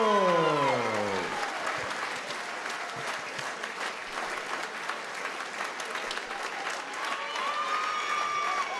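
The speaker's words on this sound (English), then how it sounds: "Ladies and gentlemen, please keep the applause going." An arena crowd applauds after a British bantamweight title boxing fight, sustained loud clapping and cheering that briefly swells near the end, with an announcer's amplified voice at the very start.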